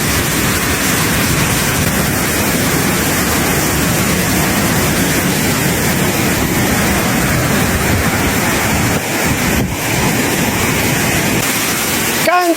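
A waterfall in the Ganjue Grand Canyon, heard as a dense, loud, continuous roar of rushing water close by, with a brief voice near the end.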